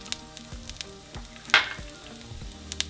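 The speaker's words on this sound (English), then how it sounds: "So now we're going to fry them for a couple minutes." Onion and poblano chiles fry in hot oil in a pan. A low, steady sizzle is marked by light clicks, then a sharp, loud hiss bursts out midway and fades back to a soft crackle.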